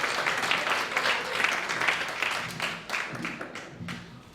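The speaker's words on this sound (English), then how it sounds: "Big warm welcome, everybody, for Gayle Dinerstein. Clap for Gayle." Audience at a Broadway comedy show applauds to welcome a comedian on stage, dense sustained clapping from a crowd, loud and close, tapering slightly near the end.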